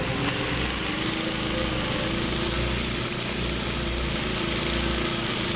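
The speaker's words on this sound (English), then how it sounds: "There's a lawnmower." A lawnmower engine drones continuously from the Lawnmower Man Sega CD game, a steady loud buzzing hum with no pauses.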